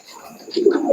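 Pigeons being fed at night, soft close coos rising at the end of a brief stretch alone, with faint chatter in the background.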